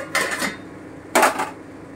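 A metal lid set down on a pot of mutton rezala with potatoes, two short clattering knocks about a second apart, close and fairly quiet, with no talk.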